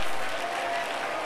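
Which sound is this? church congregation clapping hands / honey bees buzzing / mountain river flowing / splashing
church congregation clapping hands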